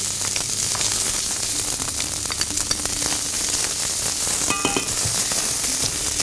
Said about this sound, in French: Je mets mon échalote.